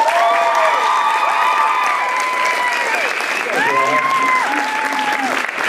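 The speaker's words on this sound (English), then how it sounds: "Let's give these guys a round of applause." Loud, sustained audience applause for performers in the Extreme Face Off music and arts final round at Ptarmigan Hall, with whoops and excited shouting riding over the clapping throughout.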